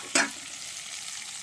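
Sliced onion, carrot and capsicum hitting a hot pan for a sauté, a sharp burst of sizzle at the start settling into a steady, close hiss, no voices.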